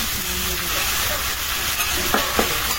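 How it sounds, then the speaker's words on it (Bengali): Prawns fry in hot oil in a pan, a loud, close, continuous hiss of sizzling with a couple of faint clicks near the end. "চিংড়ি মাছটা ভাজা হয়ে গেল,"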